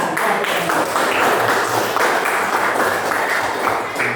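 A primary-school classroom in an Islamic religious education lesson bursts into a dense, steady round of clapping that fills the whole stretch at an even level, with no voices over it.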